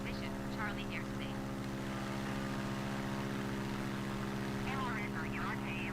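A fixed-wing airplane in Microsoft Flight Simulator 2020 flies with a steady, droning propeller engine tone throughout, while a voice talks over it in short bursts at the start and near the end.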